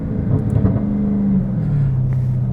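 A Dodge Challenger Hellcat with a JLT intake rumbles loudly and close, a deep steady engine drone with a brief rising rev, no voices.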